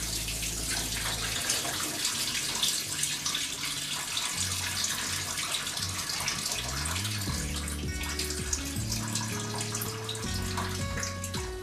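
Water draining and splashing from boiled leaves being strained for Gagauz sarma, a steady running-water wash heard close throughout with some background music tones.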